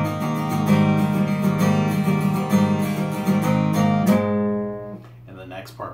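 Guitar plays a part from a song, a steady run of plucked and strummed notes ringing close for about four seconds before stopping, followed by faint handling noise.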